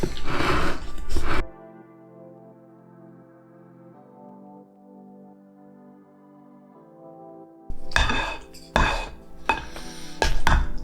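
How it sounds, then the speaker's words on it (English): Pasta, bacon and cheese sauce for bacon jalapeño mac and cheese being stirred together in a bowl, with loud scraping bursts at the start and end and a quieter, steady tonal stretch in between. "Mix this up real good."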